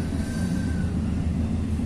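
Steady low rumble of a train on the approach to Porta Nuova station, heard from inside a carriage, with a faint high tonal whine drifting across briefly.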